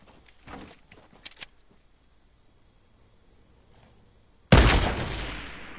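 A sniper rifle shot rings out in a first-person shooter game, one loud sudden blast with a decaying tail after a stretch of quiet, faint game sounds.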